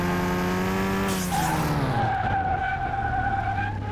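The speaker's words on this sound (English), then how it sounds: "And brake test, here we go." A car with faulty brakes skids hard during a brake test in Car Mechanic Simulator 2021: a loud, sustained tire squeal over engine noise that slides down in pitch and then holds steady as the car slows.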